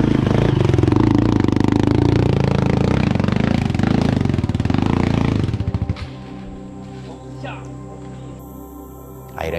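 Motorcycle in first gear straining up a steep climb in Krayan, engine revving hard and clattering loudly before cutting out abruptly, leaving a quieter stretch with voices and faint background sounds.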